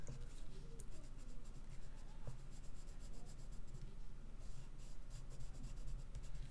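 Crayon pencils scratch and scrape steadily across a sketch card, a continuous close-up scribbling texture with a faint room hum underneath and no talking.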